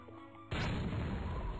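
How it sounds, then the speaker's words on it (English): Sudden loud, booming rocket explosion from the Raft Wars video game, a single close blast that cuts in abruptly and holds as a dense roar. "Rocket."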